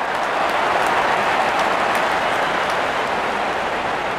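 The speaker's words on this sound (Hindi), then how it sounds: "दर्शक इस 50 रन को अपने तालियों से सराहते हुए" Virtual stadium crowd in an IPL cricket video game applauds a batter's fifty, a dense, steady wash of clapping and cheering that holds at an even level throughout.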